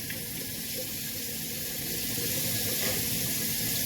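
Warm water runs steadily from a tap, a constant hissing splash without pauses.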